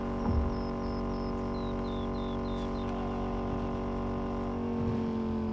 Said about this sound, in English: If you listen to the exhaust note there